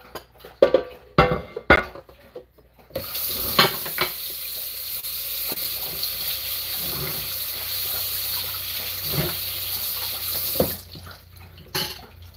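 Food is stirred and fried in a pan as a steady broadband sizzle runs for several seconds. Scattered scrapes and clinks from the utensil sit on top of it, and brief knocks and handling noises come before and after.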